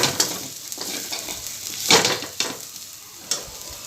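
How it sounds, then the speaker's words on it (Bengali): Potatoes and onions fry in oil in a wok, giving a steady close sizzle broken by several sharp scraping strokes as they are stirred. "তো এখানে আলু আর পেঁয়াজটা ভাজতে দিয়েছি"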